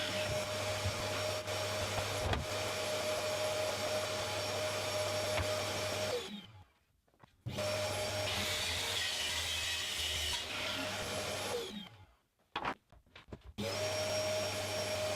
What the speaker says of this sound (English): I can rip strips off the MDF for the carcass, sides, top, base and centre shelf